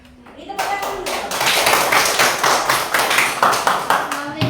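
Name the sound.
group clapping hands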